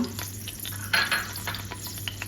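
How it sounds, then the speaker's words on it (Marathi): Whole spices, bay leaf, black pepper and black cardamom, crackling in hot oil while being stirred, a close sizzle with a brief louder burst and light spoon scrapes over a short stretch. "आता आपण तेलामध्ये तेजपत्ता, काली मिरी, मोठी वेलची हे टाकून घेऊया"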